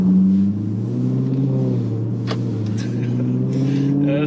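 A Maserati with a modified exhaust drives along with a deep, throaty burbling drone that rises slightly under throttle, heard from inside the car with a couple of small clicks.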